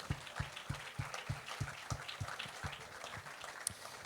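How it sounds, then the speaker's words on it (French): Audience applause at an awards evening in the Tarn, fairly faint clapping with a strong regular beat, like rhythmic clapping in time, keeping a steady pulse throughout. "vous pouvez l'applaudir"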